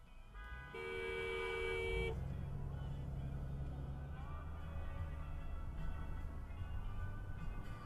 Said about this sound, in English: I'm gonna honk at you.